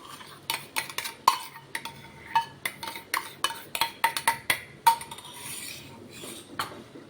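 Tomato puree being added to a pan and stirred for a Punjabi-style mixed vegetable curry, with a steady run of sharp metallic clinks and scrapes from a spoon against the pan, close and fairly loud, with no voices.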